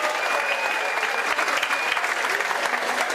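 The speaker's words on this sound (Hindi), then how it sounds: "जोरदार तालियों से स्वागत करिए" Loud, energetic applause from an audience welcoming a speaker at a youth Congress gathering, a thick wash of clapping with a faint tone and murmur running beneath it.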